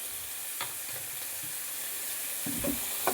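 Prawn masala with salt, turmeric and Kashmiri chilli powder sizzling steadily in a pan, a constant close frying hiss with a few soft stirring knocks and no talking.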